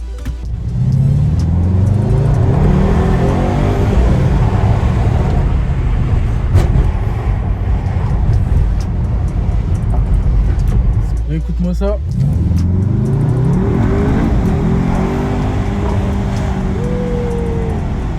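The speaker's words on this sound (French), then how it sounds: "Est-ce que tu as entendu les pétaradements?" A Mercedes-AMG GT63 S with a Stage 1 tune idles and revs loudly nearby, with a sharp crackling burst near the end of a rev; someone speaks briefly over it.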